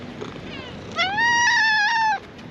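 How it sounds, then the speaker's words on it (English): A cat on the old stone city walls of Kotor gives one long, loud, drawn-out meow, close by, after a brief softer chirp, over light outdoor background noise. "And you even find cats up here too."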